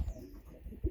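Pigeons kept by a bird raiser give low, soft coos in a couple of throaty pulses, close by and fairly quiet, with no talk.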